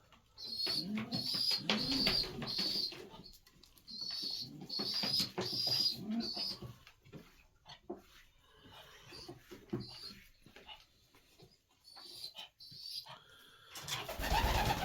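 Pigeons coo repeatedly in soft, rhythmic phrases, close by and steady, with faint rustling and shuffling between calls.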